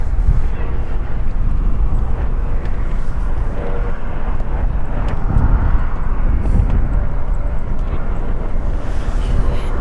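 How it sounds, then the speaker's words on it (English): A seven-year-old All Nippon Airways Boeing 787-9 Dreamliner arriving at LAX from Tokyo, producing a steady heavy jet roar with deep rumble and wind-buffeted noise, close and loud throughout. "It's a Boeing 787-9 Dreamliner."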